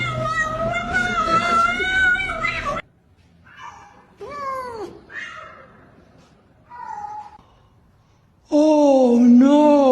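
A cat at the vet meows loudly in long drawn-out cries at the start and end, with softer, shorter meows in between, close to the listener, with no speech.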